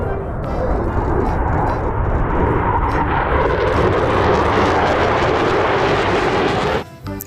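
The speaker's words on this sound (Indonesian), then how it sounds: "Ternyata ini pesawat jet tempur." Fighter jet engine roaring loudly and steadily for several seconds, a broad rushing jet noise that cuts off abruptly near the end.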